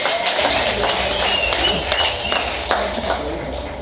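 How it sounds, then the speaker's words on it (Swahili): Wedding guests applauding together in a crowd, a dense burst of clapping that holds steady for a few seconds, with voices over it. "tupige makofi mengine tena."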